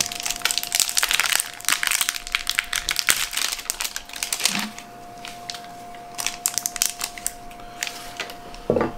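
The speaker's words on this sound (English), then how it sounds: "I'm going to go ahead and remove this plastic right here and then fit the lid on" Plastic and cardboard packaging is peeled and torn off a pico reef aquarium lid, close crinkling, crackling and ripping in busy bursts over a faint steady hum, with a few sharper snaps and no talk.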